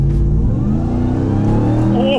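Deep, loud engine roar from a supercharged 6.2-litre RAM TRX 1500 pickup weighing about three tonnes, droning close-up and climbing slightly in pitch as it accelerates.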